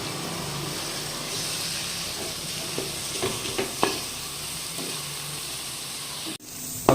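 About 200 grams of chopped small shallots and two chopped tomatoes sizzle in a hot pan for Kerala-style beef roast, a steady frying hiss broken by a few close spoon scrapes and stirring knocks.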